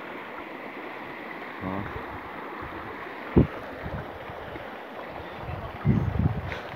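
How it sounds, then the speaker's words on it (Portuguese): Floodwater from a lagoon pours over a drop as a waterfall, a steady broadband rush under wind noise, with a brief voice and a few knocks near the microphone. "Olha a cachoeira aqui, ó. Esse lado aqui sai da lagoa, vem da lagoa."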